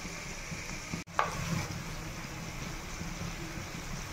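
Egg curry ingredients frying in a pan, a steady soft sizzle that stays even throughout, broken once by a brief clatter or stir near the start, with no voices.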